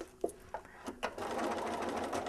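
A sewing machine stitches grid lines into Texture Magic fabric, giving a steady mechanical whir after a few brief starting taps, close and clear with no talking.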